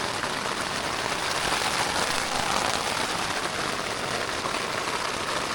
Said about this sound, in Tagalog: Yan, lumalakas ang ulan mga bro.